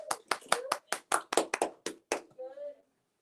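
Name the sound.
applause for a student at a school assembly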